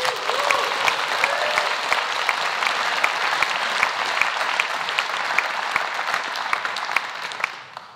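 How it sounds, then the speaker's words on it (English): An audience at a Bitcoin conference fireside chat breaks into sustained applause, dense clapping with a few sharp individual claps standing out, steady throughout before tapering off abruptly at the end. "So please give him a round of applause."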